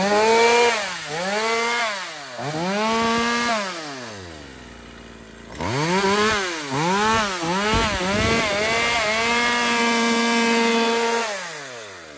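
A small, compact Ruby chainsaw runs loud and close, its engine revving up and down in repeated rising and falling surges with a short idle dip before more rapid revs.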